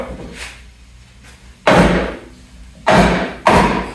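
A holdfast is knocked down into a hybrid workbench with three sharp, loud wooden thumps. The blows are irregularly spaced and each rings briefly. Fainter taps come first.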